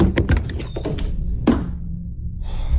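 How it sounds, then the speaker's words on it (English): Knocking thuds at night inside a brand new house: a cluster of dull knocks and bumps at the start, one sharper knock partway through, then a quiet stretch before a soft hiss, all fairly close in a still room. "Night, at the same time this knocking starts."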